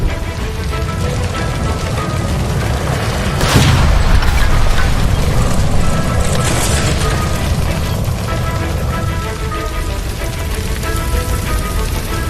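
In L.A. Noire, a gas line by a stove bursts into a loud, deep boom around the fourth second. Dense roaring crackle fills the space before and after the blast, with no voices.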